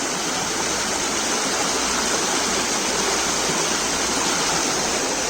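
Rain-swollen water rushes after two or three days of rain, a dense, steady roar that stays loud and unbroken throughout, with no voices.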